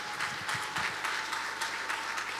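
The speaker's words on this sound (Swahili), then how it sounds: "Pigia Yesu makofi" A church congregation applauds during a sermon, a steady diffuse wash of many hands clapping at moderate distance, fairly quiet and continuous with no speech.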